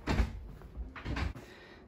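Doors pushed open into a staff-only sorting room, with a thudding swing, a second rattling push and a latch clunk in quick succession, close by with no talking.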